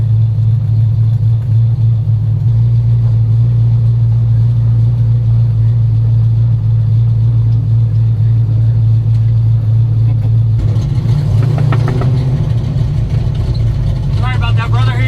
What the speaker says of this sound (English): Kevin Barton in the 65 Mustang